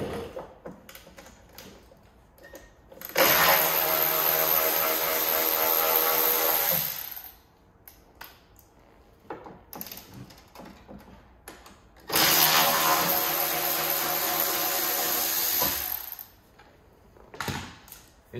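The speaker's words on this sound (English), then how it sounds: "a drill bit, and enlarge these two front holes where the factory rock rail attached" Power drill enlarging the front factory rock-rail mounting holes on a diesel Jeep Gladiator for rock slider steps, two sustained loud bursts of several seconds each with quieter clinks and handling noise between.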